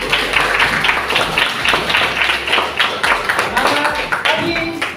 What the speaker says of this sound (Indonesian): Kita berikan aplaus untuk kita bersama-sama.